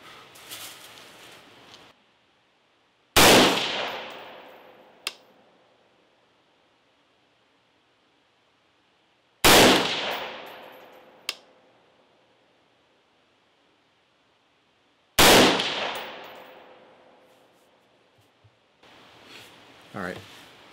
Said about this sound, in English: I'm also shooting like 3-shot groups